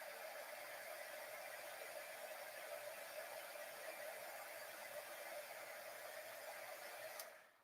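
A heat tool melting black embossing powder blows a steady, faint hissing whir close by for about seven seconds, then cuts off abruptly.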